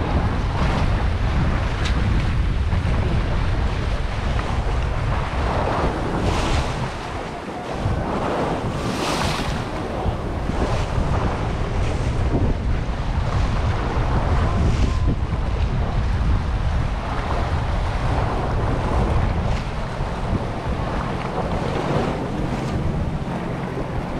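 Strong wind buffeting a fishing boat at sea, a loud roar of gusts and microphone wind noise over waves and surf, continuous for the whole stretch.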